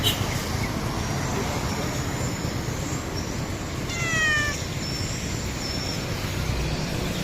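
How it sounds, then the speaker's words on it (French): A cat meows on an Indonesian street, a short rising-falling cry standing out once over steady roadway traffic noise, with the surrounding street din continuing throughout. "J'aime trop faire des gros plans sur les chats comme ça"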